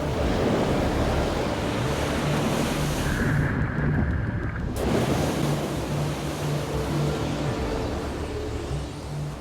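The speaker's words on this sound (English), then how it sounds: "a storm is raging. The force of the wind lashing land and sea is overwhelming." Storm wind roaring and heavy surf pounding along the Irish Atlantic coast, a loud, continuous, dense wash of wind and breaking waves with no voices.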